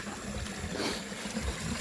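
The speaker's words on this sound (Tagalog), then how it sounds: "daan po kami nasa ilog. Ang daming tubig" Steady rushing water flows throughout, a broad continuous wash of a river current, close and fairly loud with no talking.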